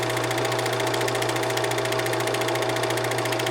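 A Bell and Howell 456a film projector runs forward after being threaded, a steady, loud mechanical clatter with a fast regular flutter and constant motor hum, unchanging throughout.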